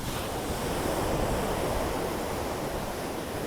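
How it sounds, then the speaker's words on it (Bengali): Big, forceful ocean waves pound the shore at Chennai Marina Beach, a loud, continuous, close surf roar with a windy hiss and no voices. "সমুদ্রের মারাত্মক ঢেউ দেখো বিশাল ঢেউ"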